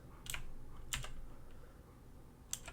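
A few short bursts of keyboard typing, quiet and close, separated by pauses, with a faint room hum underneath.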